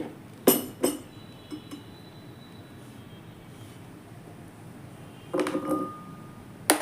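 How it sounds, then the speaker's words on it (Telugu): A bowl is set down for mixing a salad in a home kitchen, giving sharp glassy clinks: two near the start, a soft knock midway, then a clattering cluster and a final clink near the end over quiet room hiss. "ఇవి కలుపుకుంటాకి ఒక బౌల్ తీసుకొని"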